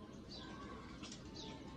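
Pigeons in a home loft being treated for salmonella and respiratory illness flap their wings with soft coos and chirps, a steady low flutter of close, quiet bird sounds with no talking.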